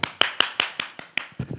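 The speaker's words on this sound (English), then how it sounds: "And so we read the story and we clap." Hands clap after a story is read aloud: about eight sharp, evenly spaced claps in a quick steady rhythm, followed by a softer, blurred flurry at the end, close and fairly loud with no talking.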